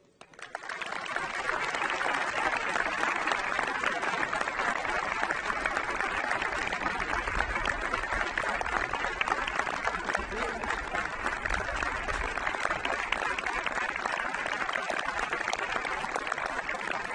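Sustained, dense applause from a concert audience at a festive band music concert in Banyeres de Mariola, greeting the band's conductor; a steady, loud wash of clapping that continues evenly throughout.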